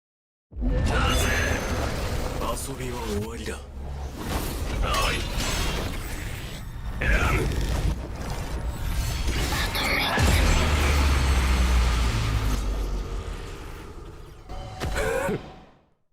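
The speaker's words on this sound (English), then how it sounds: "The VFX and sound effects are insane for this sword too." Sword attacks in the game Sailor Piece whoosh, clang and burst in a dense, loud stream of impacts and magical effects, with a sharp final hit before fading out.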